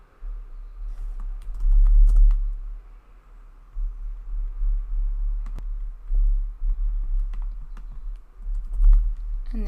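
Steady typing on a computer keyboard as a name is entered on a Google Sites page, with close, quick keystrokes in uneven bursts and short pauses between them.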